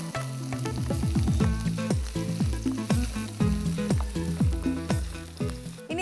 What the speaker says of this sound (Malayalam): ഇതൊന്ന് നല്ലതായിട്ട് വഴറ്റണം.